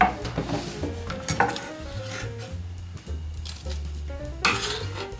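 Hard-boiled eggs being roughly mixed into a Tunisian makoud mixture in a bowl, with repeated clinks and scrapes of utensil on dish in an uneven rhythm, close and moderately loud, no talking.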